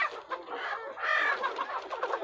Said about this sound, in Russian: Куры разные